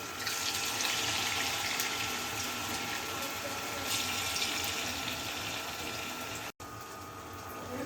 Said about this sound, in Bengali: এখন তেল গরম হয়ে গেছে, তেলের ভিতরে দেব, পাতলা পাতলা করে দেব।